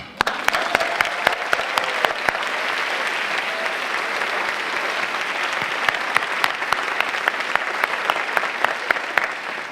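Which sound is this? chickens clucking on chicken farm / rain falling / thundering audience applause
thundering audience applause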